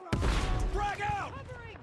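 A frag grenade goes off with a sharp, heavy boom in the video game Battlefield 6. The blast hits loud and close near the start, then trails into game sounds as voices speak over it.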